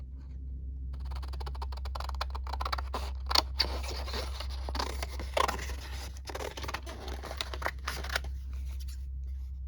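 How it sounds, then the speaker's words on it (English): Scissors snip through a paper page torn from a book, a run of crisp irregular cuts and rustling over a steady low hum, close and fairly quiet, with no voices. "I'm going to use scissors for this"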